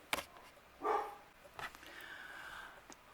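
A few faint, distant dog barks scattered across a quiet background, with short gaps between them.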